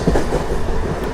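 A MEMU express train runs along a curve on a single-line track, its wheels and carriages giving a steady, loud rolling rumble with faint rhythmic clatter, close by and without talk.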